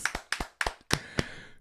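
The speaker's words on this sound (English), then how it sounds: "Yeah, let's clap." On a morning talk show, a handful of sharp, separate claps ring out close by, about six in irregular rhythm over a second and a half, without words.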